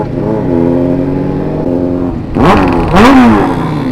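A big motorcycle engine revs hard in bursts, the pitch climbing sharply twice near the end over a steady loud idle drone.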